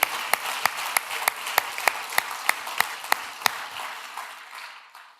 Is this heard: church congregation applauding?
yes